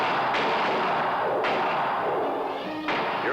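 Gunshots ring out in a Dracula film scene: three sharp, loud cracks spaced about a second apart over a dense, rumbling score.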